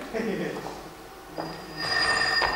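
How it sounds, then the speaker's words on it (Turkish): A telephone in a doctor's office rings in bright repeated bursts, with a lower murmur underneath. "Bu sadece telefon."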